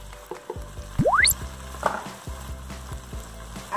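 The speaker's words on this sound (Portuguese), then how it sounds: "A cebola deu uma fritadinha." Onion fries in a pan with a soft, steady sizzle under occasional clinks and scrapes of stirring, plus a brief rising whistle-like sweep; no one speaks.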